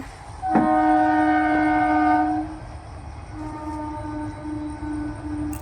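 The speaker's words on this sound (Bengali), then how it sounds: "আর দেখো ট্রেন যাচ্ছে এখন" A passing train sounds a loud horn blast of about two seconds, then a fainter, lower horn tone follows over steady rumbling rail noise, with no talking.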